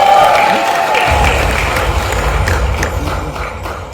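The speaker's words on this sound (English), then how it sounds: "Big round of applause." An audience at a premiere event applauds, with dense clapping and scattered cheers from a crowd at moderate distance that gradually fades.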